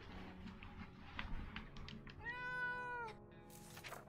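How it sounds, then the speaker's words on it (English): A cat in the game 60 Seconds! Reatomized meows once, a clear drawn-out call over a steady background of game music and ambience. "Hello, little kitty."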